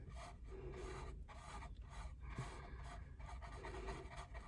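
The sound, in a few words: rubbing hard to clean off glue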